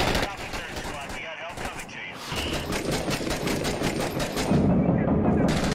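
Combat in the video game Six Days in Fallujah: dense bursts of automatic gunfire crackle continuously, with a heavier, booming stretch toward the end that could be a mortar strike, while voices talk underneath.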